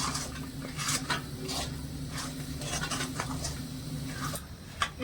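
A dried milk powder and sugar sweet mixture is stirred in a pan off the heat, with rhythmic scraping and tapping of a spatula against metal over a low steady hum, close and moderately quiet.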